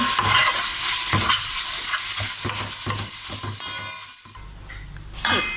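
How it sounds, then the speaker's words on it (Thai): Holy basil with plenty of chili stir-fried in a pan for a home dinner: loud sizzling hiss with rhythmic scraping strokes of a spatula, the frying fading toward the end before a final metallic clatter. "ผัดกะเพราพริกแน่นๆนะคะ"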